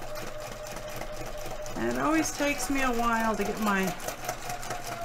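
A sewing machine doing free-motion quilting with a freeform quilting foot hums steadily close by, its needle chattering in a fast regular rhythm while someone talks over it.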